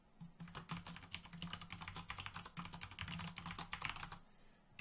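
Rapid, fairly quiet keystrokes on a computer keyboard as a password is typed, tapping in a steady stream for several seconds with no voices.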